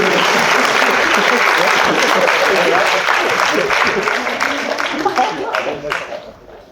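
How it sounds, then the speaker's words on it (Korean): Loud applause from an audience at a church lecture thanking volunteers after a demonstration, a dense burst of clapping with voices mixed in that thins out and fades near the end. "여기 시연해 주신 분들 감사의 박수 하시면서 잘"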